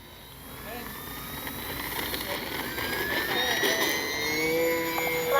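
A small FMS Skylane 182 RC model plane takes off with flaps set, its electric motor whining steadily and rising in pitch and loudness as it climbs, heard outdoors over wind and background noise.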